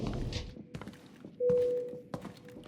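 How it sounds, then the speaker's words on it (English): Footsteps sound close by in the video game Arena Breakout Infinite as a few scattered thuds and taps. A brief tonal whine and other game noises are mixed in. "I hear steps really close to me"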